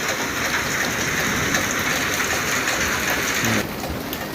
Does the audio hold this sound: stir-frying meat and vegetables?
no